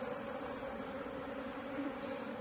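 Continuous low buzzing of many honeybees in an opened hive, steady and fairly faint, a dense hum without pauses.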